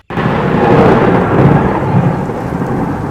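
A loud, close rumble of thunder breaks suddenly and rolls on for a few seconds, deep and continuous, with rain noise beneath.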